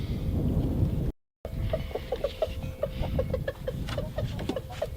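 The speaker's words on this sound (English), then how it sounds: "ignore my chickens" Chickens cluck in a quick series of short, close calls over a low rumbling background, with a brief dropout early on.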